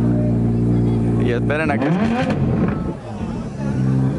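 An Audi R8 V10 Plus finished in carbon fiber fires up: a loud, low humming note jumps into a rising burst of revs, followed by a strong idle, with people talking nearby.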